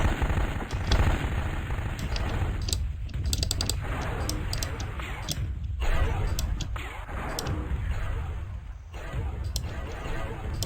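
Repeated PPC energy weapons fire from battling mechs in MechWarrior 2, a dense run of sharp crackling bursts over a constant low rumble and game noise, loud and close.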